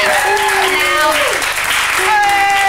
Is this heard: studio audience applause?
yes